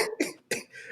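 Two short, harsh coughs from one person sound close to the mic, with a brief pause between them.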